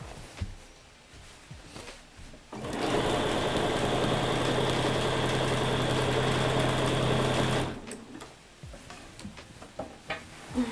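A sewing machine stitching a quilt runs in one steady, even burst of about five seconds, humming and whirring, with quiet handling noises before and after.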